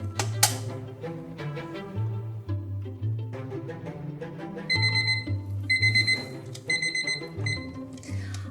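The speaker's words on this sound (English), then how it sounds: "So I'm going to set a 1-minute timer" A kitchen timer set for one minute goes off while eggs cook for a cheesy egg bagel, its alarm tones ringing repeatedly and fairly loud over a busy, music-like background.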